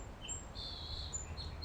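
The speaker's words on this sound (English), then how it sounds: "the most beautiful birds singing their songs of love and joy" Birds sing outdoors during a slow-flow yoga session, with thin high chirps and drawn-out whistled phrases drifting over steady low background noise, moderately distant and fairly soft.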